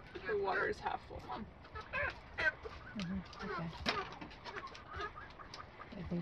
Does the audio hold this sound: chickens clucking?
yes